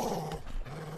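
A dog growls low and steadily at close range, a rough continuous rumble lasting about a second with no voices over it.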